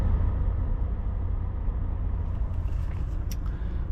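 Interior road noise from a car driving on a road just after leaving the motorway, a steady low rumble and tyre hum throughout with no talk.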